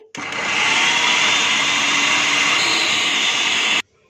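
A kitchen blender grinds green chilies and fresh coriander leaves into a green masala paste, running as a steady, loud whirring drone for several seconds before cutting off abruptly.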